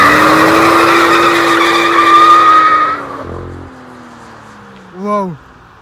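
A BMW M2 F87 LCI drifting, its engine droning loud and steady before easing off, followed by a short rising-and-falling squeal or whoosh near the end.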